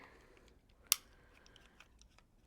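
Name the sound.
cutting quilting fabric with a blade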